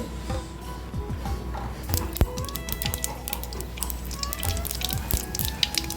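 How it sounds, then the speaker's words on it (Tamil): Mustard seeds splutter and pop in hot oil while tempering for a tomato pickle, producing a dense, irregular crackle of sharp pops that grows busier after the first couple of seconds, heard close with no talk. "எண்ணெய் காய்ச்சி கடுகு பொரிஞ்சிருச்சு"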